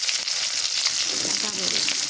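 Cumin seeds and onion frying in oil in a pan, a dense, steady sizzle that stays loud and close the whole time with a bright crackle on top.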